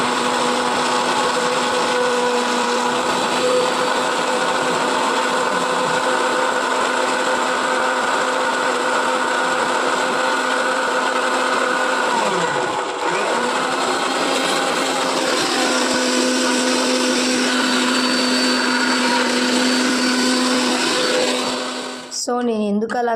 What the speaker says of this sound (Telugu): నేను ఇంకా మిక్సీ అనేది వేసాను